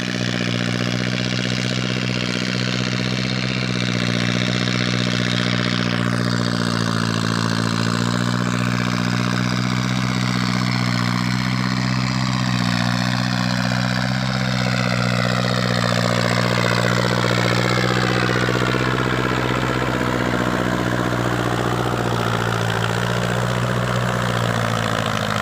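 A vehicle engine strains loudly and continuously while stuck in mud and overheating, a steady droning roar with rising and falling pitch across the whole stretch and no talk.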